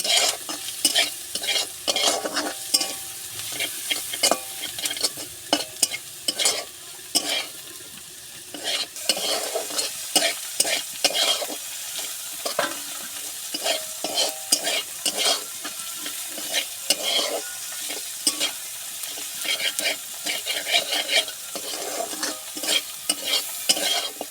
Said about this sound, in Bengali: দু মিনিট দুই এইভাবে নেড়ে চেড়ে ভেজে নিয়েছি